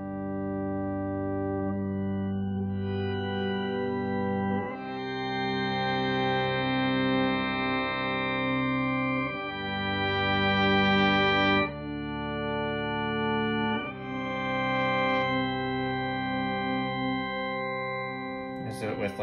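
Electric guitar played through a pedalboard with a Pog 2 octave pedal and a Super Ego synth pedal, producing sustained, layered chords with thick octave harmonics, swelling and shifting every few seconds, loud and continuous.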